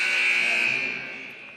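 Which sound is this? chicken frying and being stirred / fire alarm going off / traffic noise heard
fire alarm going off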